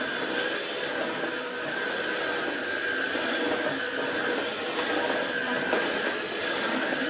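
A vacuum cleaner that seems underpowered runs with a steady, droning motor whir and a constant airy hiss, unbroken throughout, with no voices.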